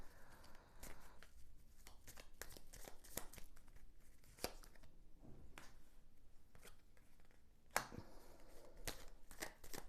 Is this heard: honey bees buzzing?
no